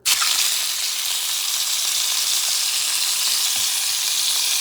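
Marinated meat frying in hot oil, with a loud, steady, hissing sizzle that starts abruptly and continues unbroken throughout.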